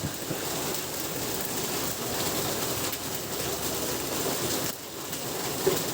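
Heavy rain pours down in Meherpur as a dense, continuous roar of falling water, steady and loud from start to finish.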